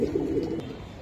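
Pigeons cooing close by, a soft low throaty coo repeated a few times over background murmur.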